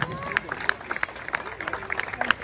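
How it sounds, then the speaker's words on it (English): An audience at an award function's closing ceremony applauds Srikanth and his family with scattered, moderately loud clapping. Crowd murmur and voices run beneath it. "Claps for Srikanth and family, please"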